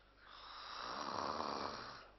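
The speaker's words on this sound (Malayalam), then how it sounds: "ഈ കണ്ട നേരം മുഴുവൻ കൂർക്കം വലിച്ചിരുന്നത് നീ തന്നെയല്ലേ" A man snores while asleep, one long rasping snore swelling to a peak and fading over about two seconds, close and fairly loud, with no talk.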